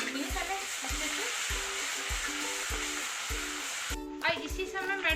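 Coarse ginger and green chilli paste frying with cumin in a pan, steady loud sizzling hiss with a regular low rhythmic thump underneath.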